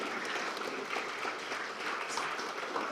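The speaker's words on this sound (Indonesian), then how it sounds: "Ya, kita beri tepuk tangan." Steady applause from a large audience at a televised event, a dense continuous patter of clapping held at even loudness throughout.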